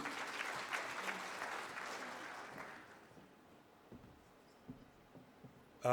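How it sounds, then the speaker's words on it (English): Applause at an induction ceremony rises for an inductee, fairly faint and distant, then thins out over a few seconds into scattered claps and a quiet room. "A round of applause for him as well."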